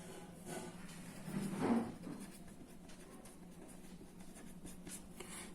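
Chalk or marker writing on a board in a physics lecture, a brief scratchy stroke of a couple of seconds over a quiet room hum, with no talking heard.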